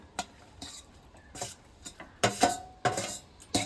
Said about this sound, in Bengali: এবারে এখানে ভেজে নেওয়া ডিমগুলো দিয়ে দেব।